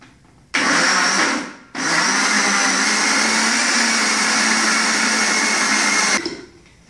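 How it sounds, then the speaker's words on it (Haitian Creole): A blender blending figs whirs loudly, stops briefly, then starts again and runs steadily for several seconds before shutting off. "On va les blender figures."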